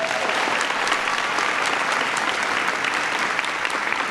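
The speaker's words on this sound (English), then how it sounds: "Give him a big round of applause." Audience at a speech applauds, dense steady clapping filling the room, loud and continuous for several seconds with no talk over it.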